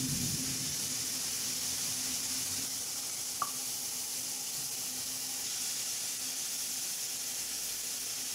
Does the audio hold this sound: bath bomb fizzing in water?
yes